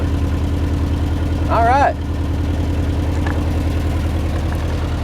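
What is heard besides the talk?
Datsun B210 engine running, blowing junk out of muffler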